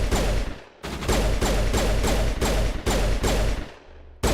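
Rapid pistol gunfire in the Mass Effect Legendary Edition video game, a loud run of about a dozen sharp shots in quick bursts with short pauses between them.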